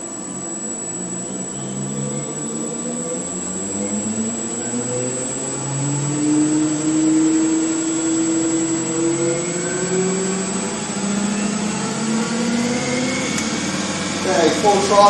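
A DC electric motor driving a car's automatic gearbox, locked on the flange, gently run up under power: a rising whine with climbing tonal sweeps and steady hum, fairly loud and continuous throughout.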